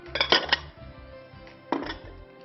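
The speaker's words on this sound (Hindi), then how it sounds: "इसमें हम सेब और अंजीर को साथ मिक्स कर लीजिए" Apple and fig pieces are tossed together in a bowl, with a cluster of hard clinks and knocks at the start and another short burst near the end, close and fairly quiet with no talk.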